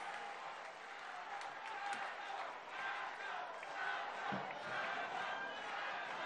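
A crowd at a public event in Colima applauds the state governor, with a faint, distant wash of clapping and murmuring voices and a few sharper claps standing out.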